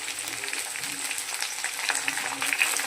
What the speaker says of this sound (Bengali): এবার আমি দিয়ে দিচ্ছি টমেটো কুচিটা।